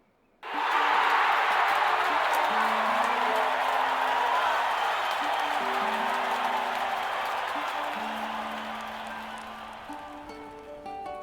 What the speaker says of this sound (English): Just listen to that. Bet I can make them cheer louder